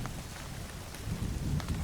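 Steady rain and rolling thunder ambience for a horror story reading, with a continuous wash of rainfall and a low rumble that swells louder in the second half. No voices are heard.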